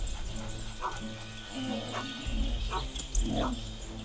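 A pack of several large dogs bark and yip in short overlapping bursts, with whimpering mixed in, fairly close and loud.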